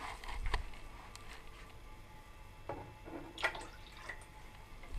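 Coffee maker dripping water into coffee, faint scattered drips and trickles over a quiet background hum, close by with no speech.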